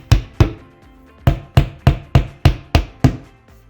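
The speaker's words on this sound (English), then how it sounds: "Then hammer the wall anchors into the wall." Hammer blows driving plastic wall anchors into a wall: two sharp knocks, a short pause, then a steady run of six evenly spaced taps, close and crisp.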